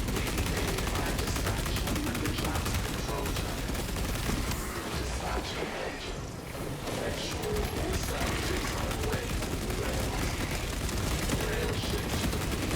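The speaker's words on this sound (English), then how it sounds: "This is why you play Heavy Bolter." Sustained full-auto heavy bolter fire in the Helldivers 2 shooter game, a dense, loud, continuous barrage with only a brief dip midway, blasting at bug enemies.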